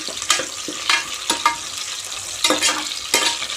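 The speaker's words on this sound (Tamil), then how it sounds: "வெங்காயம் நல்லா வதக்கி வரட்டும்" Onions sautéing in a pan for Kongu-style biryani, a continuous sizzle broken by repeated scraping stirs at a brisk, uneven rhythm, close and loud with no talk.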